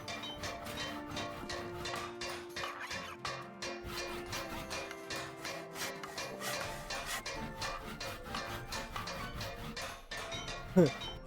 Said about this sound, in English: Forgot that the hammering is just the load noise.